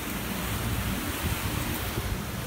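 Wind and waves during Hurricane Irma in Altamonte Springs, Florida: a dense, steady roar of gusting wind and churning water with heavy microphone buffeting, constant and close, no voices.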